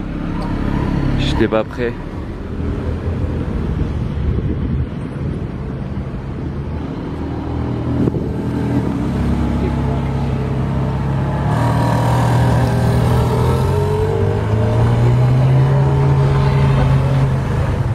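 A Ferrari Scuderia engine starts up and a supercar convoy drives past on the streets of Monaco ahead of the 2021 Formula 1 Grand Prix. Engine tones swell in the second half beneath steady nearby French conversation.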